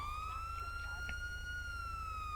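An emergency-lighting police car siren in the LSPDFR police game plays its first tone as a steady, loud, slowly rising and falling wail over a constant low engine drone, with no break.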